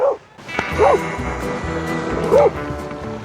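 A cow dog herding a bull in open range country barks in a few loud, sharp yaps with rising and falling pitch, spaced apart against outdoor ambience and a low background rumble.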